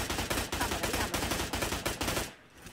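Rapid automatic gunfire in BGMI (PUBG Mobile), a close, loud burst of evenly spaced shots rattling for over two seconds before cutting off abruptly.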